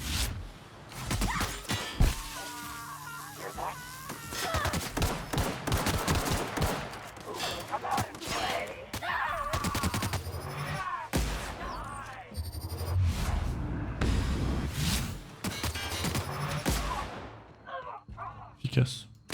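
Plasma gunfire in the sci-fi role-playing shooter The Outer Worlds, with dense volleys of shots and impacts going on throughout a combat skirmish, loud and busy with a few brief pauses.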